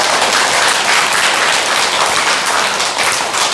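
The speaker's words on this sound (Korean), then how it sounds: "보통 이런 얘기하면 박수 쳐주던데." A Korean Buddhist temple congregation at a Sunday dharma service claps loudly, a close, dense burst of applause that stays strong and uniform throughout.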